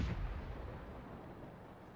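A 76 millimeter tank gun firing in a tank battle video game, heard as a heavy booming report that rolls off into a long, loud low-frequency rumble.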